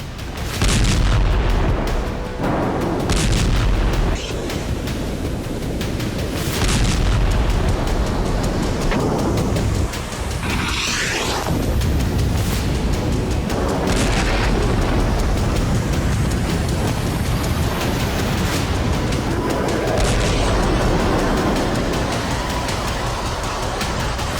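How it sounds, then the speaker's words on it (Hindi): Israeli air strikes on Beirut set off a run of loud, deep explosion booms and rumbles over about twenty-four seconds. The blasts come irregularly over a continuous roar of heavy background noise. "ये बेरूत पर इजरायली एयर स्ट्राइक की तस्वीरें हैं।"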